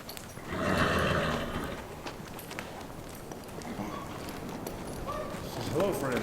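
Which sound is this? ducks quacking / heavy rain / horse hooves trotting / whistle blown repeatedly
horse hooves trotting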